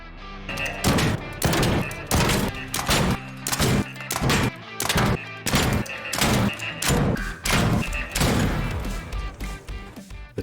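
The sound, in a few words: Turret enemy firing in ARC Raiders video game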